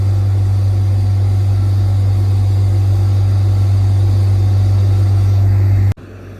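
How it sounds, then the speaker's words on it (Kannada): Ashok Leyland truck engine idling with a steady, loud, low drone close by, holding evenly for about six seconds before cutting off abruptly. "ಸೊ ಗಾಡಿನ ಮತ್ತೆ ಸ್ಟಾರ್ಟ್ ಮಾಡ್ಯಾರ."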